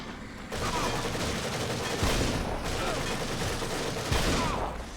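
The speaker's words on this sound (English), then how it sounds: "Stop with the machine gun spam." Sustained machine gun fire in The Evil Within, a loud continuous rattle of rapid shots with a couple of heavier thumps, almost unbroken for several seconds.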